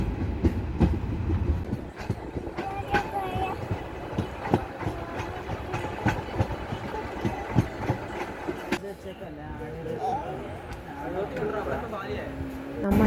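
A passenger train on the rail route to Goa rumbling along the tracks in a dense, continuous roar with rhythmic clatter and occasional sharper knocks, heard from inside a carriage, faint voices mixed into the din.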